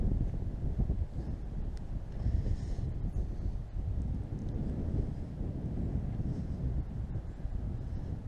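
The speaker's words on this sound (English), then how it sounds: "Fortunately, the wind is blowing me back instead of towards the edge." Steady wind gusting at the edge of a high-country lake ringed by pine forest in Arizona, a continuous low roar buffeting the microphone throughout with no one speaking.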